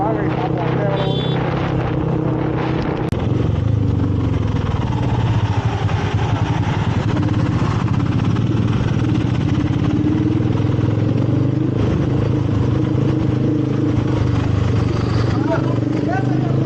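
A TVS Apache RTR 160 2V with an aftermarket AR exhaust rides along a road near a toll gate, giving a continuous close engine drone with wind rush and no pauses.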